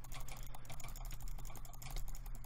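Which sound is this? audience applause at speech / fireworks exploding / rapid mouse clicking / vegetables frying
rapid mouse clicking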